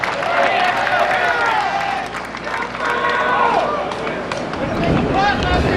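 A golf gallery at the US Open applauds and cheers Phil Mickelson, a broad wash of clapping and crowd noise that swells and fades, with a commentator talking over it.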